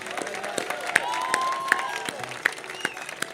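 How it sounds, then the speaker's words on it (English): Applause from a church audience honoring a faculty member's accomplishment, steady clapping with a few sharp individual claps standing out, moderately loud and spread through the room, with some voices mixed in. "now you can applaud one more time."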